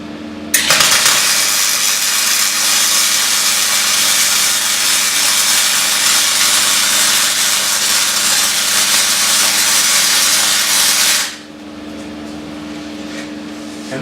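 Steady, loud crackling hiss of a light-duty MIG welder running gasless wire, holding constant for about ten seconds before cutting off to a quieter background hum.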